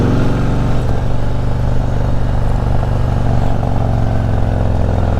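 A BMW K1600 B motorcycle accelerates at wide-open throttle with rapid gear shifts, a loud close engine drone with a brief dip at one shift before the steady roar resumes, no voices.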